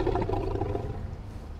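Bear growling in the video game The Quarry, a deep, continuous roaring growl heard up close and loud throughout, alone with no talk over it, easing slightly toward the end.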